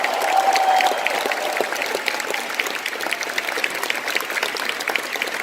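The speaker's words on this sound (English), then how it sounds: "Give yourself a round of applause" An audience at a New Skin Southeast Asia convention claps steadily throughout, a dense, even wash of applause that stays loud from start to finish, with no one talking over it.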